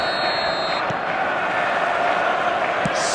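Stadium crowd in the eFootball video game, a steady dense roar of fans singing from the stands on a clear evening before a showcase match, continuous and fairly loud with a few faint thuds.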